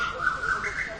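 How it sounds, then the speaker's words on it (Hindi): An Asian koel, a cuckoo, calls in rising whistled notes that sound fairly close, heard over a steady speaking voice. "इस कूकती कोयल के प्रति"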